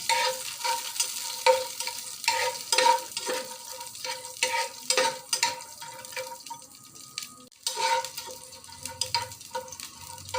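Almonds lightly frying and being stirred in a pan, a steady crackle with repeated scraping strokes of the spoon at an even rhythm, close up and moderately loud, with a brief pause near the end.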